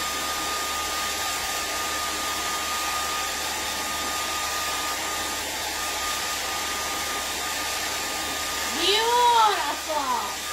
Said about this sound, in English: So grab your hand dryer.